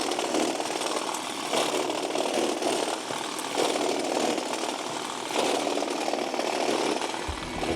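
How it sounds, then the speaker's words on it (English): A STIHL RGA140 battery brushcutter trims along an edge near windows, its steady, loud whirring drone running continuously with slight surges in intensity throughout. "Let's start back there, trim along the edge, hopefully not break any windows,"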